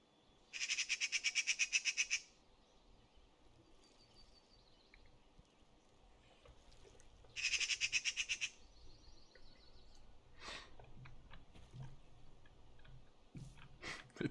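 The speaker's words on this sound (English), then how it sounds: "It's like a bird, I guess." A bird near a lake gives two loud, rapid bursts of harsh squawking calls, each about a second and a half, followed by scattered sharper chirps and clicks over faint background noise.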